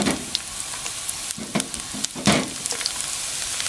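Garlic frying in hot cooking oil for pork humba, a steady close sizzle with a few sharper spatters and stirring clinks, no talking.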